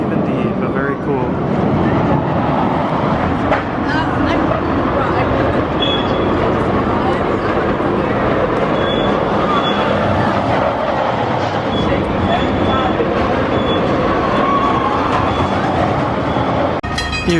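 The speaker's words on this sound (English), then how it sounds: "Here comes the Six Flags Railroad" The Six Flags Railroad train at the amusement park rolls past in a long, steady rumble with faint clacking and brief high squeals, holding even loudness for the whole passage.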